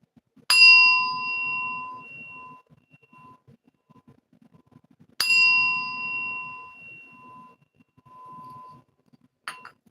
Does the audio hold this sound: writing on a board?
no